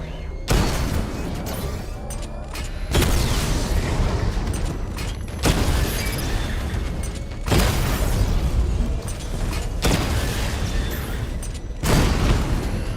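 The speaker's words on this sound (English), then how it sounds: "Charge up missile barrage to level 2 and destroy 4 active targets to complete diagnostic test" Batman's missile barrage in the Batman Arkham Knight video game: several rounds of heavy explosions, each a burst of booms followed by rumbling decay, repeating at roughly two-second intervals and loud throughout.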